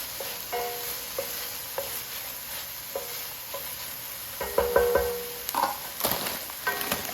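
Mushrooms cooking in a pan for a mushroom Wellington, a steady low sizzle with scattered scraping stirs that grow louder and busier toward the end, with no talk.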